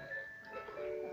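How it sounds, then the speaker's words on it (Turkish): A Joie Serina 2-in-1 baby bassinet plays a short, faint electronic lullaby with bright chime-like tones, heard alone for about a second. "Şu tarafta da melodiler var."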